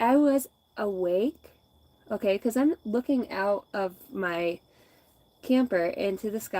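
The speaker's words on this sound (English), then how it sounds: "Listen to the crickets sing" A steady, high-pitched cricket trill drones faintly at night in the background while someone talks close by, audible through the pauses in his speech.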